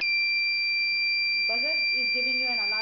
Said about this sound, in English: buzzer is giving you an alarm